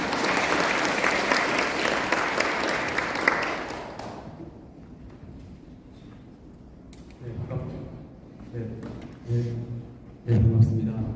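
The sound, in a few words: audience applause welcoming a speaker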